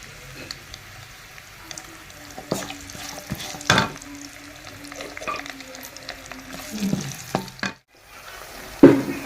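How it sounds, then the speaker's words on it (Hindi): Onions frying in a pan while cooking kofta curry, with a steady close sizzle and occasional stirring clatter throughout. "अब इसके अंदर इस तरह से हम प्याज ऐड कर देंगे।"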